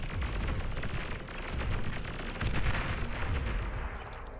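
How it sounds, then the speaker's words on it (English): Long-range artillery pounders firing in the BAR strategy game, a dense barrage of sharp booming shots and rattling gunfire, loud and continuous with no voices. "he's hitting you with some longer ranged artillery"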